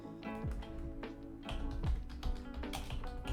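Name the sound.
computer keyboard typing noises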